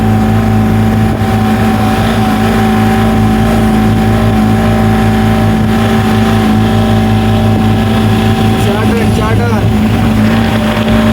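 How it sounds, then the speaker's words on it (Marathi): A car engine drones steadily at moderate revs in second gear, loud and close throughout, with a brief rise in pitch near the end as it pulls. "गाडीची फायरिंग ऐकू शकता तुम्ही."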